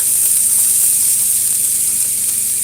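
Red onions and scallions sizzle steadily in a hot frying pan, a loud, continuous crackling hiss with no voices over it.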